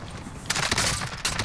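Dense automatic gunfire in Call of Duty: Modern Warfare, a rapid crackling burst that starts abruptly partway through and rattles on at close range, with no talk over it.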